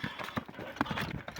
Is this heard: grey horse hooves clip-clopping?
yes